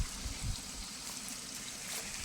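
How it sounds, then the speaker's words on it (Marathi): A small stream of water flows through a broken valve handle, a faint continuous trickle with a few soft splashy bursts near the start and no talk over it. "इथं थोडंसं पाणी जातंय."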